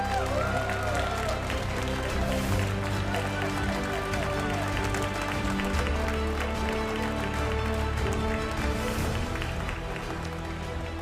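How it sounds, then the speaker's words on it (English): Steady, loud applause and crowd noise fill a hall for the grand champion of the Pokémon GO tournament at the 2024 Pokémon Bologna Special Event, continuous clapping throughout with faint cheering and musical tones underneath. "Give a round of applause."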